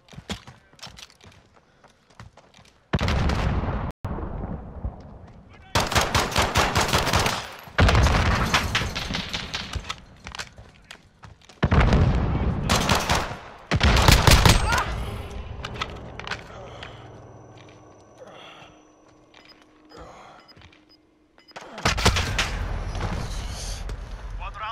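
Gunfire in Call of Duty: Modern Warfare 2019 comes as several loud, sharp clusters of rapid shots separated by quieter gaps, with players talking between the bursts.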